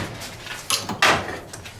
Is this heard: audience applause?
no